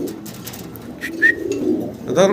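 Pigeons at a pigeon farm coo in soft low murmurs, with a few sharper chirps and a brief voice nearby.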